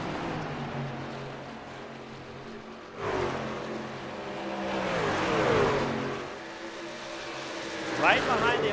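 Race trucks in a PC truck-series racing game roar past with rising and falling engine drones, revving up and shifting, while a commentator talks steadily over the engines.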